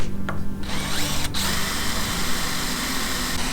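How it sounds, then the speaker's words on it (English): A DeWalt power drill whines continuously and loudly, biting into steel with a steady grinding drone and a brief catch partway through. "I'm just going to use this DeWalt power drill."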